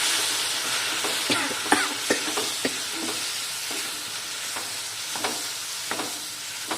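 Lemon pieces dropping into chili powder frying in coconut oil for a lemon and date pickle, giving a constant hiss with irregular light stirring scrapes and taps throughout, no talking.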